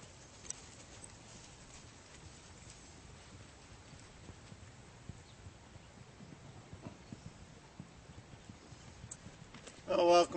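A horse's hooves clip-clop steadily on the ground as it is warmed up during a riding lesson, soft and somewhat distant, with a short louder clatter at the very end.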